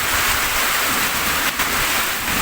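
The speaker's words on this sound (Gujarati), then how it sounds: "પવન સાથે વરસાદ છે" Heavy rain driven by strong wind roars as a loud, continuous broadband rush with blustery gusts and wind buffeting close to the microphone, and no voices.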